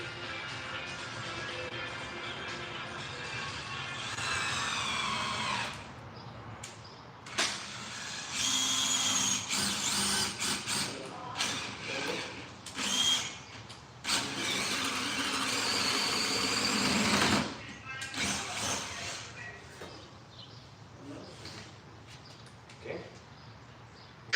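A DeWalt cordless drill with a bit whirs in several bursts, rising and cutting off as it drives into wood, with quieter pauses between runs.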